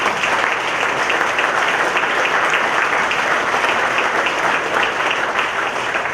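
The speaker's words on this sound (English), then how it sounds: "So join me in a final applause for all the winners and the highly commended." Loud, sustained applause from a large crowd at an awards ceremony during a user conference, a dense and even roar of clapping hands throughout.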